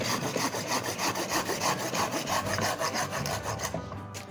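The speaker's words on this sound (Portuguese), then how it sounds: "Vou passar o serrote desse lado aqui." A hand saw cuts through camellia wood being shaped for bonsai, its strokes rasping in a quick, steady back-and-forth rhythm close by, loud and continuous until the cut finishes.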